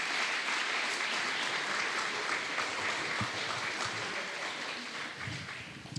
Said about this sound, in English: just give one round of applause to our dignitaries that are here.